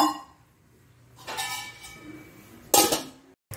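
Metal lid set onto a cooking pot of knotted colocasia leaves, a couple of clinks and a sharp clatter at close range in a quiet kitchen.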